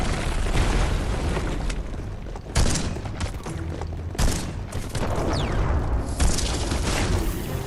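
Dense gunfire and explosive booms in the video game Biomutant, continuous loud bursts layered over one another with a few heavier thumps, no talking.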